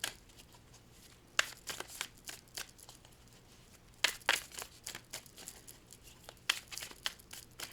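A Star Trek card deck is shuffled in close, crisp bursts of riffling and flicking, several quick rounds separated by brief pauses, with no talking.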